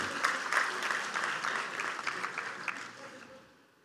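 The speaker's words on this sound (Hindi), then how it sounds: "तो उनके लिए भरपूर तालियां" Audience at the opening ceremony of a literature festival in Pakistan applauds, a steady roomful of clapping that carries for a few seconds and then tapers off to quiet.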